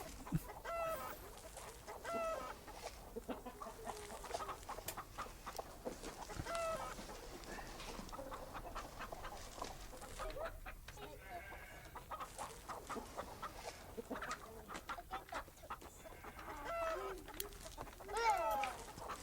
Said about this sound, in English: It looks like that baby is scaring the chickens away